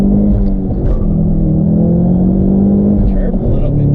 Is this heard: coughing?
no